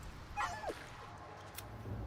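A dog in a fantasy video game lets out a short, high whimpering yip, faint against a steady game background, with no talk over it.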